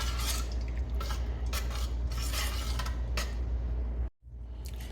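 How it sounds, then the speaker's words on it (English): A spoon scrapes and stirs through a pot of Sri Lankan-style fish curry with spices, making a continuous low scraping and bubbling clatter that stops abruptly near the end before resuming faintly. "Want to just give the pot a nice stir."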